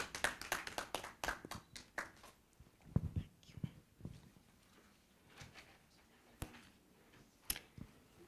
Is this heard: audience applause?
yes